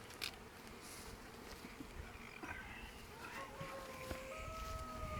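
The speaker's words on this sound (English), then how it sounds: "See how I'm not killing these bees?" Honeybees hum in a faint, steady drone while a bee package is hived into an English garden hive, with occasional closer buzzing passes rising in pitch above the quiet background.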